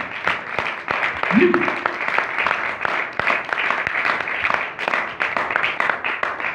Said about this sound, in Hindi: ऐसे नहीं, जोरदार तालियां।